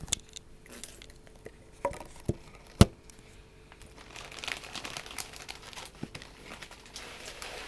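A plastic package of SA8 Premium washing powder, a 3 kg bag, crinkles and rustles close up in scattered soft bursts, with one sharp crackle partway through and steadier handling noise afterward.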